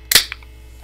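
A Coke can snapped open close by: one sharp crack and hiss at the start, a small follow-up click, then near silence.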